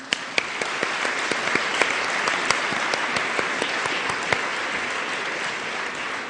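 Audience at an Oxford University evening event applauding steadily, a dense, even wash of many hands clapping with a few sharper claps standing out, sustained throughout.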